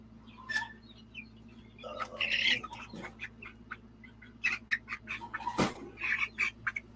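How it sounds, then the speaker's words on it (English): Backyard chickens, among them a young barred rock cockerel, cluck and squawk softly at a moderate distance, with scattered calls and chatter over a steady low background hum. "You had Mr. Rock, my barred rock cockerel. He's getting big"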